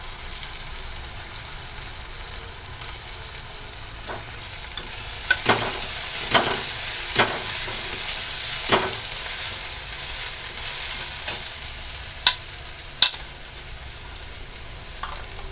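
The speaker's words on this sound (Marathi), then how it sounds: "पहा आता आपला कांदा आणि टोमॅटो व्यवस्थित भाजला गेला आहे." Onion and tomato fry in a pan for pav bhaji under a steady sizzling hiss, with a spoon scraping and stirring through them in short, irregular strokes at close range.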